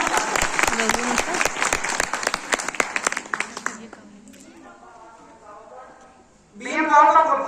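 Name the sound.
audience applause for BM Rao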